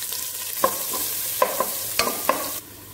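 Chopped onion sizzles steadily in ghee in a pan, a constant frying hiss broken by several sharp clinks of a utensil stirring against the metal, then the sizzle cuts off abruptly near the end.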